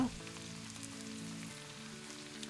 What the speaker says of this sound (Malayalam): 2 മീഡിയം സൈസ് സവോള സ്ലൈസ് ചെയ്തത് ഇതിലേക്ക് ചേർക്കുക